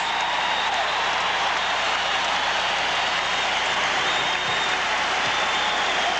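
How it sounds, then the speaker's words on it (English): Arena crowd at a 1980 Final Four college basketball semifinal between Louisville and Iowa applauding, a dense steady wash of clapping and crowd noise that holds evenly throughout. "the crowd applauds"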